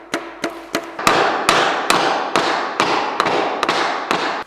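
Hammer blows on LP SmartSide siding during exterior installation, a dozen or so sharp, loud strikes in an uneven rhythm, each ringing briefly, close by with no speech.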